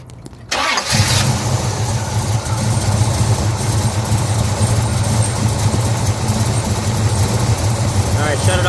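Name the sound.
hot rod car engine idling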